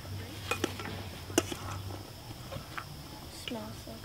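Chickpea salad is tossed and mixed in a bowl, giving a few soft clinks and scraping clatters of utensils against the dish under a nearby voice that keeps talking.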